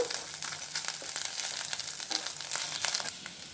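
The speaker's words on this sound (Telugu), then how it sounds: "అల్లం తెల్లగడ్డ పేస్ట్ ఈ ఫ్లేవర్కి ఈ పులుసు చాలా బాగుంటుంది వేసి కొంచెంసేపు వేపుకుందాము" Ginger garlic paste frying in a pan for a spicy egg curry, a dense, crackling sizzle that runs continuously at close range, with small pops and spits throughout and no voices.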